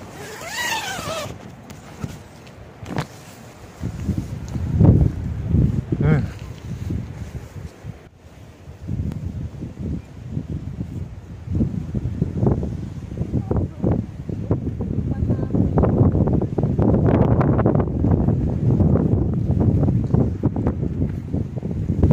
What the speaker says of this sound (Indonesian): Kondisi jam 7 pagi ini angin sangat kencang teman-teman.